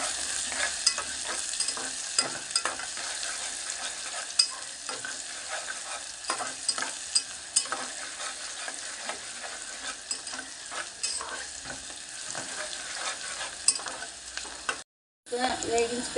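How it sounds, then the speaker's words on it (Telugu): Onions and green chilies frying in oil in a pan, a steady close hiss of sizzling with light stirring clicks throughout, continuing for many seconds with one brief dropout near the end. "ఉల్లిపాయ పచ్చిమిరపకాయ వేద్దాం. కొంచెం వేగనిద్దాం."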